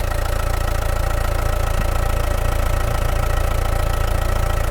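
A Tata Vista diesel car engine idles steadily and loudly up close, a constant rumbling drone with no speech.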